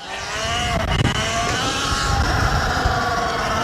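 A Sur-Ron Ultra Bee electric motorcycle fitted with a Torp TC1000 17 kW controller rides on mountain terrain, its motor whine rising and falling in pitch over loud wind and tire rumble close to the rider.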